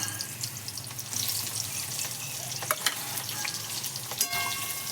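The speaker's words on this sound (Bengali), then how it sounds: "ফোড়ন হয়ে গেছে, এবার আমি দিয়ে দেবো পেঁয়াজ কুচি।" Chopped onions sizzle in hot oil tempered with cardamom, cloves and cinnamon, the start of a spicy chicken curry. A steady close-up frying hiss runs throughout, broken by a few sharp clinks and scrapes of stirring.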